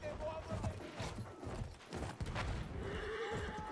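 A horse neighs and whinnies over hoofbeat clip-clops in a video game, with gunfire and battle noise around it in a busy game soundscape.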